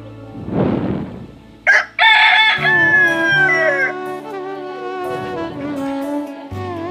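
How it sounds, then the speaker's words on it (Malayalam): A rooster crows loudly and close by, a long drawn-out call, with chickens clucking around it at a farm coop beside quail chicks and an incubator. "ഇതാണ് നമ്മുടെ കോഴികൾ."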